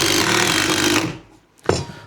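A power drill drives a 1 1/4 inch screw into a wooden climbing hold on a workbench, a loud, close whirring burst that stops, followed by a single sharp knock.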